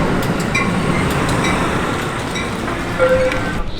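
A steady rumble and rattle of a moving train, with a brief faint tone near the end.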